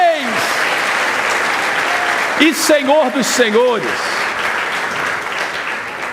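A church congregation applauds, a dense, steady wash of clapping that fills the whole stretch while a voice speaks briefly over it in the middle.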